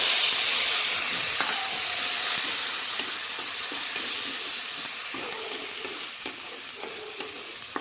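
Ground spice paste fries in hot oil in a kadai with whole cumin and bay leaf, giving a steady close sizzle and hiss with occasional stirring scrapes.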